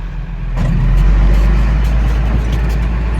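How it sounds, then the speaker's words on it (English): A beet harvester's engine runs loud and close, its steady low rumble swelling after a moment and then holding constant throughout. "let's watch the beet harvester."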